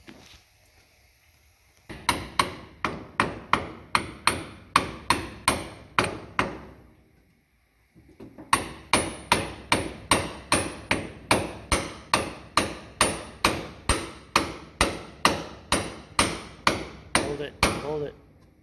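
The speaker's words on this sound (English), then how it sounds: "Use a hammer, Sean." Repeated hammer blows knocking a sprocket back onto a broken shaft, a steady series of sharp metallic strikes in two bursts, loud and close, with a brief pause between them.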